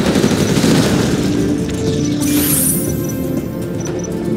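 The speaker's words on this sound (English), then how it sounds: "Gatling tank, ready for action." A Gatling tank in Command and Conquer: Generals fires a dense, rapid, continuous stream of gunfire. The rattling barrage stays loud and steady throughout, with no talk.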